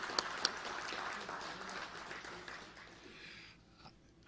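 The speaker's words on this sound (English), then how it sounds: "Let's give him a round of applause." A masonic meeting audience applauding a member: a dense patter of clapping from a room of people at moderate distance, fading out toward the end.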